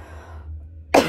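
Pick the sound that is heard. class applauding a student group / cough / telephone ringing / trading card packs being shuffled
cough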